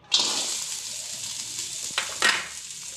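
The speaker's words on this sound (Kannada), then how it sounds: "ಸ್ವಲ್ಪ ಆಯಿಲ್ ಹಾಕಿ ಚೆನ್ನಾಗಿ ಹುರ್ಕೊಳ್ಳಿ" Finely chopped okra hits hot oil in a pan with a sudden loud hiss. The hiss settles into a steady sizzle, broken by two brief scraping stirs.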